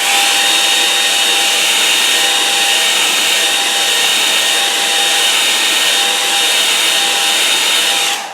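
A hair dryer blows steadily on wet watercolour paint, a loud continuous whoosh with a fixed whine running unbroken for the whole stretch with no talk over it.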